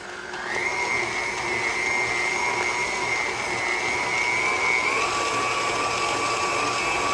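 An electric mixer whirs steadily through chocolate cake batter, a close, constant motor hum whose pitch shifts slightly partway through, with no talking.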